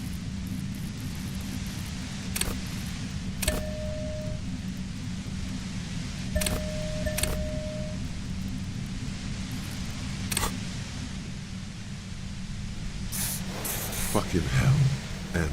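Steady wideband hiss of white-noise static in the Disco Elysium video game, running constantly through the whole stretch with a low rumbling bed beneath and a few brief clicks and tones over it.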